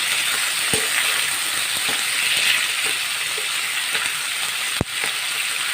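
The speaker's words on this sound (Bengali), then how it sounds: "কুঁদরোইগুলোকে সামান্যভাবে একটু ভেজে নেব" Sliced ivy gourd (kundru) frying in a pan gives a steady broad hiss of oil, with a few soft clicks and one sharper tap near the end, and no voice over it.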